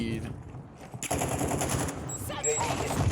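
Rapid bursts of automatic fire from a 9mm gun in the shooter game Warzone, loud and close, with a sustained volley after a short pause.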